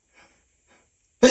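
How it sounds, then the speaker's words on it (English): Two faint breathy inhales build up in near silence, then one sudden, loud, close sneeze bursts out at the very end. "Gonna sneeze again."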